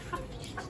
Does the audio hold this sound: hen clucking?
yes